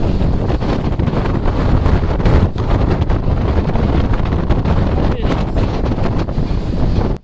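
Strong wind buffets the microphone continuously on a boat at sea amid big waves, a heavy roaring rumble with gusty bursts, until it cuts off abruptly at the end.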